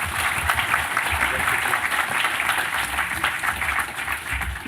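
An audience at a hackathon awards ceremony claps steadily, a dense wash of applause that stays fairly even and fills the room from start to finish.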